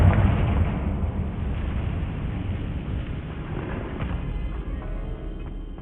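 Fiery Confringo spell blasts in Hogwarts Legacy, a loud sustained roaring rumble with a heavy booming onset that stays dense and low throughout.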